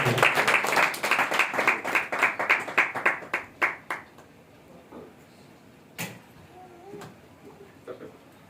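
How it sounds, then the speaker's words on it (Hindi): Church congregation clapping to welcome a speaker, a burst of brisk, rhythmic hand claps for about four seconds, close and loud, then fading out into quiet with a few scattered sounds. "जोरदार ताली बजाकर के भाई का स्वागत करें"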